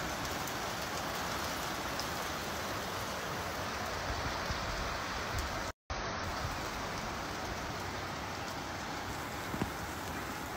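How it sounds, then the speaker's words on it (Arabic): Steady rainfall in Abha, Saudi Arabia, a dense, even hiss of drops striking surfaces that runs continuously with one brief dropout midway and no voices. "ما شاء الله على هالأمطار"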